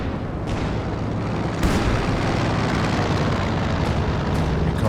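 Distant ML-20 howitzer fire in Company of Heroes 2 booms beneath a dense, continuous rumble of battle noise, with a few heavier thuds standing out from the steady roar.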